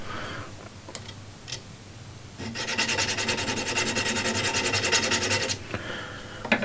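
A card scraper shaves the side grain of wood with a light touch, giving a rapid, even rasping stroke pattern for about three seconds, close and clear, with a few faint clicks before and after.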